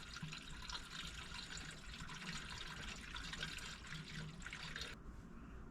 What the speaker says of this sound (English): I'm filling the bottle up. Letting it fill the system.